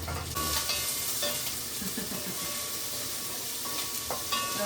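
Onion and curry leaves frying in a pan give a steady, close sizzle, with occasional soft scrapes from stirring and no voices.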